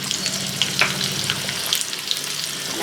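Dry red chillies, asafoetida and turmeric tempering crackle and sizzle in hot oil for red chilli dal, a steady close frying hiss with small pops and stirring scrapes.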